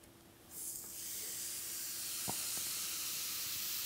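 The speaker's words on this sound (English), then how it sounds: "little sizzle going on there" A sudden loud hiss of food hitting a hot George Foreman indoor/outdoor electric grill, settling into steady sizzling that continues, with a couple of faint clicks.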